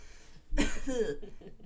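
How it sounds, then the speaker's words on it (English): A single harsh cough up close, loud and abrupt, trailing off into a brief throaty rasp. "the strain today, as I cough"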